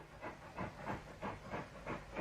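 Steam locomotive hauling a goods train toward a signal box in archive footage: rhythmic chuffing exhaust beats about every third of a second over a hissing, rumbling background, fairly faint and distant, with no talk.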